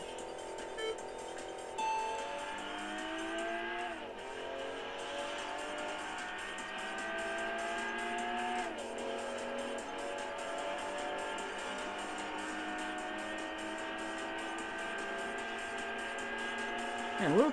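Race car engines in Import Tuner Challenge, an RX-8 opponent among them, drone steadily with rising and falling revs and brief shift dips, moderately loud under a speaking voice.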